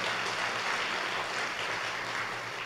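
A large church congregation at a prayer-movement gathering claps continuously, a thick, even wash of applause held at moderate loudness, heard somewhat at a distance and with no talking over it.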